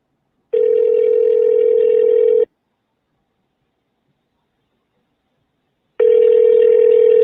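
Two long steady electronic ringback tones on a phone line, each about two seconds, separated by a long silent pause.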